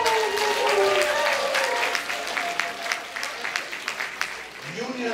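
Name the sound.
round of applause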